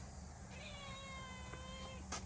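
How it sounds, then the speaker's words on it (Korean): A former stray cat on a mountain goat farm gives a few faint, rising-and-falling meows over a low steady background hum. "원래 도둑고양인데"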